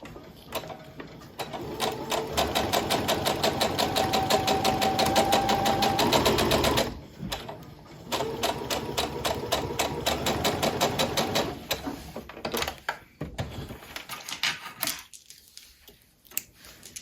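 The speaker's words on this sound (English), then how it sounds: "And then I'm just going to sew along." A sewing machine stitches quilt binding at a short, compact stitch length, running in long close bursts of fast rhythmic whirring and needle clatter, pausing briefly between runs, then slowing to scattered clicks.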